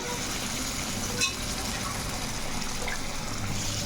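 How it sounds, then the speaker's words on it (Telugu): Water splashes and runs into a pot of green chicken pulao at close range, a soft continuous gush over low kitchen background noise. "ఇవన్నీ వాటర్ అయితే వేసేసుకుందాము"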